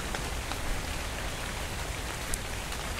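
Rain falls in the video game Dark and Light as a steady, dense hiss of broadband patter with no breaks, even and fairly soft throughout.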